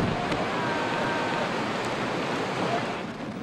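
Strong typhoon wind roars steadily in Hong Kong, a loud continuous broadband rush buffeting the microphone with no breaks, easing slightly near the end.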